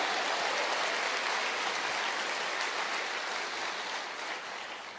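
A church congregation claps in praise, a dense, broad wash of applause that keeps up steadily and then thins slightly toward the end, with no voices over it.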